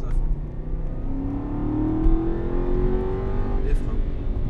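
An Aston Martin on a race track at full throttle, its engine note climbing steadily as it accelerates, loud and close, with an instructor speaking over the drive.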